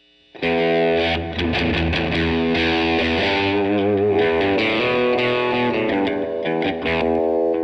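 Electric guitar through a Morley AFX-1 analog preamp overdrive pedal pushing the amp's front end, with thick, crunchy overdrive, plays ringing chords and short riffs, sustained and loud with a warm, saturated edge.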